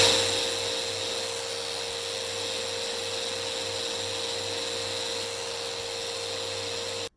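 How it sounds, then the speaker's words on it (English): Rotec sander smoothing the edges of oak and walnut woodworking pieces, a steady high-pitched whine with a constant electric hum that runs unbroken at close range and cuts off abruptly at the end. "We'll use a Rotec sander. I love this tool."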